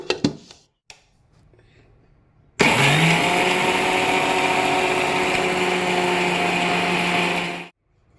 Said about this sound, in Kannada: ಸೊ ಇದಕ್ಕೆ ನಾನು ಸಾಲ್ಟ್ನ ಕೂಡ ಹಾಕ್ಬಿಟ್ಟು ಫಸ್ಟ್ಗೆ ಇದನ್ನು ಗ್ರೈಂಡ್ ಮಾಡಿ ಎತ್ತಿಡೋಣ